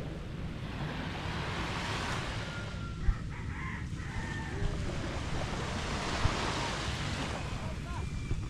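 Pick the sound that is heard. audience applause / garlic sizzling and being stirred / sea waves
sea waves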